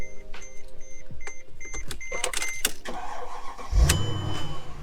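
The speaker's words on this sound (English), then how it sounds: "Why'd you start the car exactly?" A Mercedes E55 AMG starts up in an interior setting: a whirring starter and clicks lead into a sudden loud engine catch and a steady idle rumble, close and alone.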